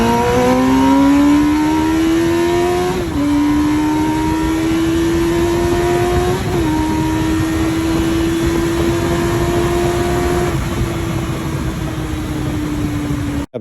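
A 2021 Campagna T-Rex three-wheeled roadster pulls hard from 60 to 130 mph, its engine note climbing steadily through long gear pulls with two brief shift dips, loud and close throughout.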